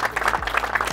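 An audience applauds team Garazh at the Iron Fish feeder fishing tournament final at the Kruta Balka reservoir, giving a short burst of scattered clapping over a low background hum.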